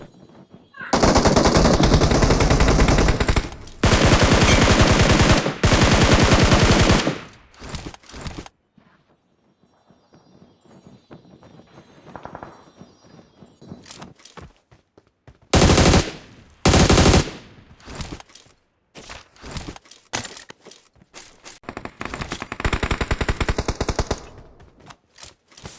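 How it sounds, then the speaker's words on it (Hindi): Automatic gunfire rattles out in a battle royale video game, long loud sustained bursts that keep returning with brief pauses and scattered single shots between them, with a voice talking faintly underneath. "वहाँ से बहुत टाइम से फायर आ रहा होता है।"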